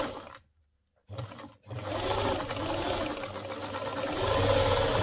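A sewing machine runs steadily for several seconds while stitching a skirt hem with horsehair braid, after a short start and a brief pause near the beginning. The motor hum stays close and even, with no talk over it.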